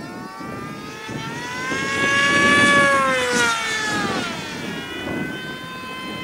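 The electric motor of a Lidl model glider is throttled up in strong wind, its whining propeller tone rising in pitch and loudness, then easing off again as the plane passes overhead.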